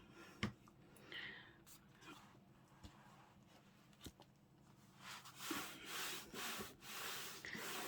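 A journal page in an altered file folder being rubbed up and down by hand, soft papery scuffs, faint at first and growing into louder rhythmic strokes near the end, with no talking.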